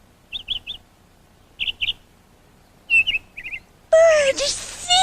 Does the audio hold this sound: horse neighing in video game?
no